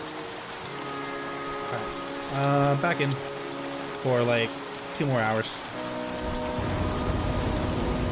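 Steady rain on surfaces in the survival video game The Flame in the Flood, a constant hiss that continues throughout and grows slightly heavier near the end, with someone talking over it in short bursts.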